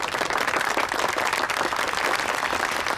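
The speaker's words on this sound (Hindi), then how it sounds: "चंदा के लिए ताली बजा दो एक बार" A classroom of students claps for Chanda after her correct answer, producing dense, steady, loud applause that fills the whole stretch without pause.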